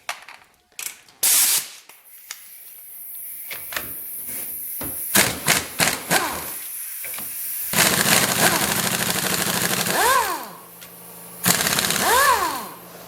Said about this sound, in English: I'm going to use an air gun to actually loosen these up